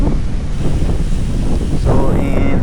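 Strong wind buffets the microphone outdoors on a road trip toward Aparri, a steady rough roar filling the whole clip with no speech.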